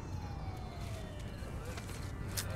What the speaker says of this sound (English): You hear the ambulance?